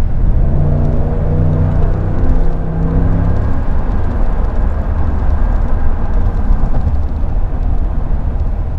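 A Ford F150 pickup truck runs on an empty fuel gauge while the driver repeatedly punches the accelerator in traffic, producing a loud, continuous engine rumble and road roar heard from inside the cab.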